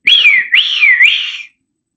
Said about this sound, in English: It's people out there whistling